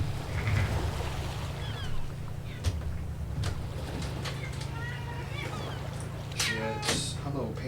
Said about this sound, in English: there's a cat outside my door